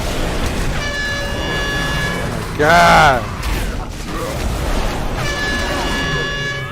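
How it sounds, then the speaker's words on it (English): A deep, blaring foghorn alert from the Deadly Boss Mods addon in World of Warcraft sounds twice in long sustained blasts, with a brief startled exclamation from a player between them over game noise. "I don't know when DBM decided it was good to put a foghorn sound"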